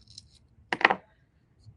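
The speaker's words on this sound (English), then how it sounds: "just take your scissors out and trim it" Scissors snip through washi tape in one short, crisp cut, a quick close burst of sharp clipping amid otherwise near silence and faint rustling.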